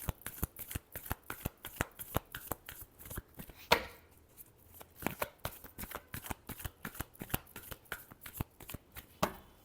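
A deck of tarot cards is riffled and shuffled over and over, with quick papery flutters and sharp snaps falling in an uneven rhythm. No one speaks.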